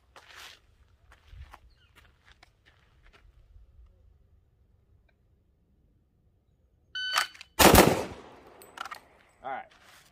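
A race-gun pistol scoop draw during USPSA speed-shooting practice: soft handling clicks and rustles, then two loud close gunshots in quick succession, followed by a brief voice.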